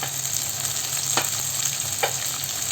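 Spring onion, onion and capsicum sautéed in a hot pan for chilli chicken: a loud, steady sizzle with two brief stirring scrapes, close and without voices.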